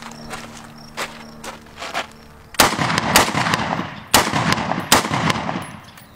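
Firearm with a 25-round magazine shooting at an outdoor target: several sharp, loud reports, a few lighter shots first and then heavier, irregularly spaced bangs with echoing tails.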